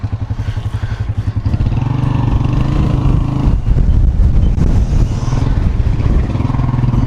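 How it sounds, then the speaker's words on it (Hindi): A motorcycle rides through the streets of Palmyra, Syria, its engine thrumming steadily and loud up close, with wind buffeting the microphone and some rattling clatter. "इनके साथ बाइक के ऊपर घूम रहा हूँ।"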